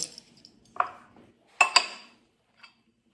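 Meat tipped from one bowl into a bigger bowl for seasoning, a few separate clinks and knocks of bowl and utensil with quiet gaps between them.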